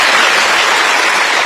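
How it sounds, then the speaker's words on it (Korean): A burst of loud, dense clapping from an audience, continuous and close. "박수 부탁드리겠습니다."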